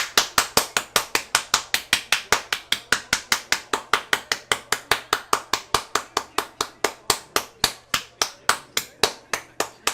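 Steady, rhythmic clapping in unison, sharp claps at an even quick pace throughout, loud and close with no talking.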